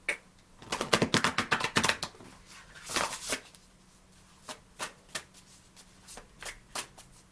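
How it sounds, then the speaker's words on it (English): A refreshed deck of cards is shuffled by hand, a fast rippling riffle followed by a sharp bridge snap and then scattered lighter taps and shuffles, close and alone. "Shuffling up my newly refreshed set deck"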